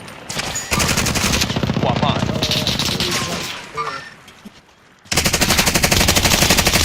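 Rapid automatic gunfire in Call of Duty Warzone, loud sustained bursts with brief pauses, a short quieter gap, then another dense volley, with faint voices underneath.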